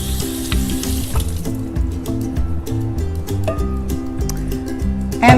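Tap water runs steadily into a kitchen sink while vegetable pieces are rinsed under it, a continuous splashing rush with small clicks and knocks from handling, and a louder clatter near the end.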